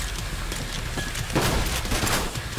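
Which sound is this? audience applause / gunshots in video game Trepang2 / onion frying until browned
gunshots in video game Trepang2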